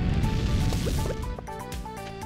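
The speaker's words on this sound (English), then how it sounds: "Okay, let's water the plants." Plants being watered in a video game: a continuous splashing, dripping pour of liquid, close and loud, with bright game tones overlapping it and no speech.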